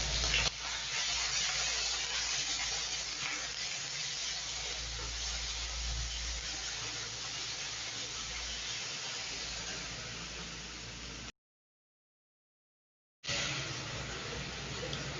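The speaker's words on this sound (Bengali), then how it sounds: "মশলাটাকে একটু ভালো করে কষিয়ে নেব।" Spice paste of ginger, garlic, onion and dried chilli frying in a pan for jackfruit seed kofta curry: a steady, even hiss and sizzle lasting about eleven seconds, then a brief dropout before it resumes, with no voices.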